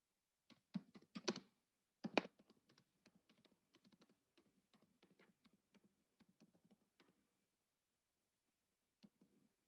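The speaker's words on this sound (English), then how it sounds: "I'm going to type in the right one." Typing on a computer keyboard: quick bursts of close, crisp keystrokes at first, then a steady run of lighter taps, a pause, and a couple of final clicks, fairly quiet overall.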